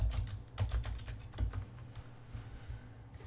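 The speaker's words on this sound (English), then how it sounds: "I'm going to type the password in" A password typed on a computer keyboard, a quick run of close, crisp key clicks over a low background hum, slowing and thinning toward the end.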